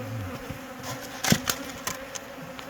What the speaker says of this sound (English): So you imagine how many bees is in there.